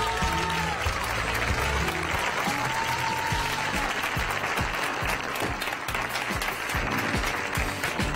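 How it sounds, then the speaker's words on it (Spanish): Studio audience applauding on a radio show, a dense run of clapping that carries on for several seconds, with faint music or tones sitting underneath. "El aplauso para Alex y Mágico"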